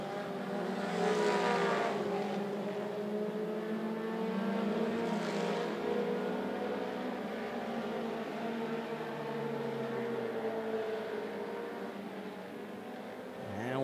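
Mini stock race cars run at 411 Motor Speedway, their engines droning and whining in overlapping tones that rise and fall as the cars pass, with no commentary audible.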